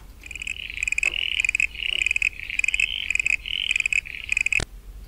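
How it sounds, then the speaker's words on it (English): Common eastern froglet calling in a steady series of short, rapid chirping pulses, about seven bursts over five seconds, close and clear with no voices. "We're going to try the common eastern froglet."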